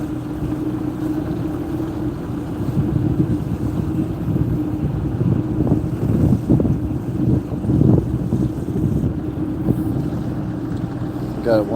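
An outboard-powered fishing boat cruises steadily while power trolling for winter king salmon in Alaska, its motor a continuous low drone with wind buffeting the microphone and water noise throughout.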